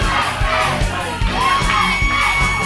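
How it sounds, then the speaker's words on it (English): A crowd at a live pro wrestling tag team title match in Texas cheers loudly, a dense wall of shouts and whoops rising and pulsing in short waves, with children's voices audible in the mix. "people would be cheering for Pablo Chuco and Doberman"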